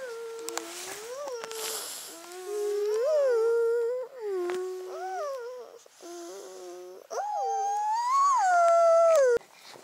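A person imitates dolphin sounds with loud, wavering squeals and whistles that rise and fall in pitch in several long bursts, close and alone, during a kimchi-making day.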